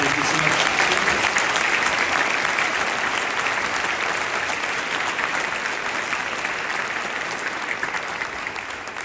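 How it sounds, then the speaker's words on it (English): An audience applauds a junior honor band at a county concert, a dense, steady wash of many hands clapping in a hall that holds for several seconds and slowly eases off, with no talk over it. "would you please join me in giving them another round of applause?"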